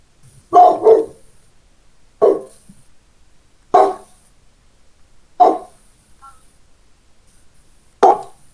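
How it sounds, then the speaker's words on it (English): A dog barks indoors in five spaced single or double woofs, loud and close against a quiet background, with no voices. "Barking. That's fun. She's been very barky lately."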